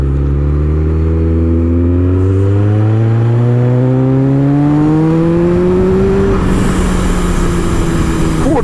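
A 370hp supercharged Kawasaki ZZR1400 motorcycle accelerates hard through the gears, its engine note climbing steadily in pitch, loud and close, before a gear change and a rushing roar of wind.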